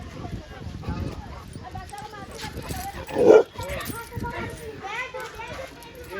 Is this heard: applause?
no